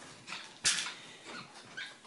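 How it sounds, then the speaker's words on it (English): A Chihuahua makes a few short, soft yips and whimpers close by, with one sharper burst among the quieter sounds. "So look at Chihuahua."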